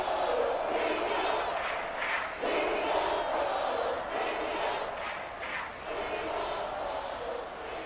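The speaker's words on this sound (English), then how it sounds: "This crowd alive again." A football stadium crowd roars steadily during a fourth-quarter comeback, a loud, continuous wash of cheering and yelling that swells and dips slightly throughout.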